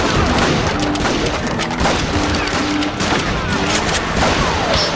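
Dense, loud gunfire in the Western shooter Call of Juarez Gunslinger: rapid overlapping shots and booms sound without pause through the whole stretch, with only a faint voice underneath.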